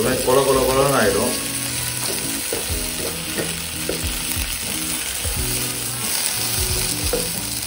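Okra pieces fry steadily in a hot pan with a continuous close sizzle, while a spoon scrapes and stirs at irregular intervals. A voice talks briefly at the start, and then the frying carries on alone.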